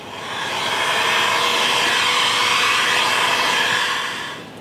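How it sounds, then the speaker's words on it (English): A heat gun blows steadily on car wrap film, a loud even whooshing hiss that swells in, holds for several seconds, then fades. "Now when you use the heat gun, the wrap itself is going to conform to each one of these little areas"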